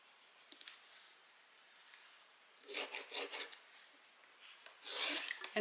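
Marker or pen scratching across Decovil-stiffened bag fabric in two short bursts of dry rubbing, close and quiet, with faint handling noise before them.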